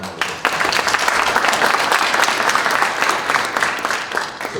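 A round of applause from a panel discussion audience at a university honors a community member, dense and steady clapping for several seconds before easing off.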